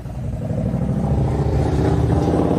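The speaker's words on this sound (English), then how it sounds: "You hear some motorcycles riding behind me now." Motorcycles ride past on a street in Washington, D.C., during a memorial ceremony for fallen soldiers, a rising low rumbling engine drone building in loudness over a few seconds, with no speech.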